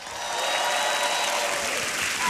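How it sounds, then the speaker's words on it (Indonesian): Audience applause fills a stand-up comedy grand final show, a steady, loud wash of many clapping hands that swells slightly and holds throughout without a break. "tepuk tangan sekali lagi untuk Babe"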